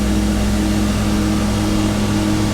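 A Wadkin GD 5 head moulder with a 3 horsepower feed runs with its feed engaged, a loud, constant mechanical drone with a steady low hum and no breaks.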